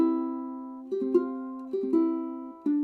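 A soft plucked ukulele chord rings out, then a few quick single notes flick on top in a small repeating melodic figure, quiet and unaccompanied.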